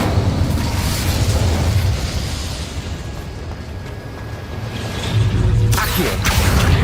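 A fire spell cast in the Hogwarts Legacy game gives a steady rumbling, roaring burst with low booming swells and a brighter flare near the end, loud and continuous without pause.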